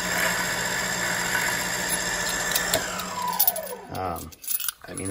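A Giraud power case trimmer runs with a steady motor drone that winds down near the end, leaving brief clatter and quiet.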